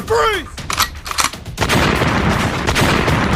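Rapid bursts of gunfire ring out in a video game pitting dinosaurs against Siren Head, coming as a dense, continuous rattle after a few shorter shots, loud and close, with an excited voice talking over the start.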